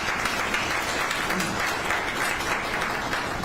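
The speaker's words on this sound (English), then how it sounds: "Can we give them a round of applause?" A crowd at a county back-to-school news conference applauds law enforcement partners, a steady, moderately loud patter of clapping that runs without a break.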